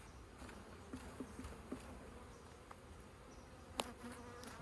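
Honeybees buzz steadily throughout during a vertical hive split, a continuous close insect drone with a few sharper bumps and knocks from the frames handled nearby.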